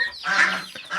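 A goose from a backyard flock honks in a short, close, fairly loud burst that rises and then fades, with farmyard fowl nearby.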